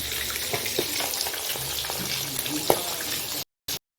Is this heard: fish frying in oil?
yes